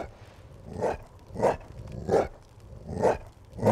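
Rough, snarling barks from a rotting undead dog in the VR game Witching Tower come in five evenly spaced bursts, fairly close and loud against a faint rumbling backdrop, with no voices.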